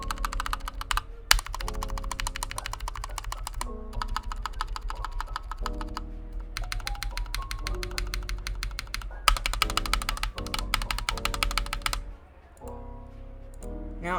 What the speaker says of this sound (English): Now I will give you a stabilizer sound test.